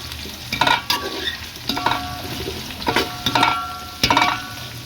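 Four large onions sauté in a pan until they turn brown, sizzling loudly and close up. A spatula stirs them in several distinct scraping strokes, with brief pauses between bursts and no voices.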